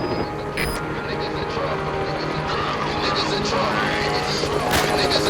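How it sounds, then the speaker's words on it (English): Helicopter approaching in the Metal Gear Solid V video game, a steady rotor drone mixed with game sound effects and music, continuing at an even level throughout. "Snake is able to call in fire support from Peapod, the friendly helicopter buddy."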